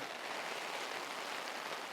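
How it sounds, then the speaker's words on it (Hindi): Steady rain falls in an even, dense hiss with no breaks or distinct drops standing out, faint and continuous throughout with no voices. "ये बारिश भी बड़ी अजीब है।"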